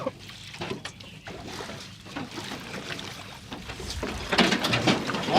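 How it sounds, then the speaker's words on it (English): A boat speeds past a freediving platform at a world championship off Ajaccio, and its bow waves slosh and slap against the platform in a steady, broadband wash of water noise that swells slightly toward the end. "We probably had a boat go past us at a speed and we're feeling the bow waves."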